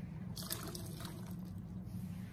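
Great Northern beans poured into a cooking pot for a stew, a quiet pattering rush of beans and liquid spilling in over about a second against a low kitchen hum.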